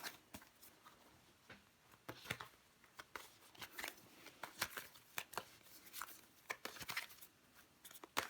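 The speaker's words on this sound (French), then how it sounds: "On va recouvrir des cartes." Tarot cards are laid out and flipped on a table: a quiet, close series of crisp clicks and slaps, irregular and bunching together in quick flurries.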